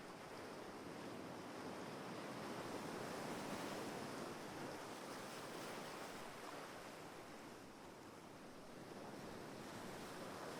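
Ocean waves and surf roll in a steady, dense wash of noise, loud and continuous for the whole stretch with no voices, blended with some wind rumble.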